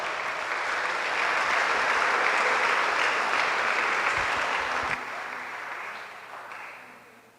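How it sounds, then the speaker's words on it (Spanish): Applause from an audience at a church missionary formation evening welcoming the speaker: a dense, loud burst of clapping that holds for several seconds, then thins and fades out. "recibamos con un fuerte aplauso a nuestro ponente de este día, que es el Padre Simeón Reyes"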